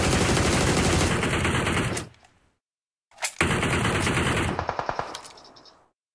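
Automatic gunfire in the mobile battle royale game BGMI, with two long, loud, rapid-fire bursts separated by a second of silence, the second burst tapering into spaced single shots.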